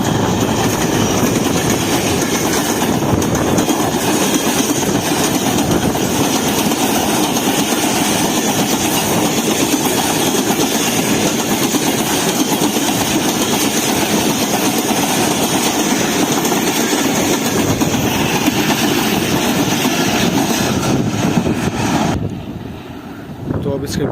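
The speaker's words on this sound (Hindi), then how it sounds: "तो दोस्तों 3:10 पर आ रही है 18 डाउन मिलर एक्सप्रेस।" The 18 Down Millat Express passes at Dabheji with a loud, continuous roar and rumble of rolling cars and clattering wheels up close, sustained for over twenty seconds before easing off at the end.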